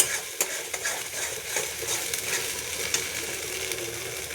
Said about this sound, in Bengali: এভাবে করে কষিয়ে নিতে হবে। কষাতে কষাতে এক সময় তেল ছেড়ে দেবে।